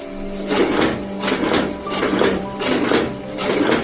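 An agarbatti (incense stick) making machine runs close and loud with a regular, repeating mechanical thump-and-hiss cycle about twice per second.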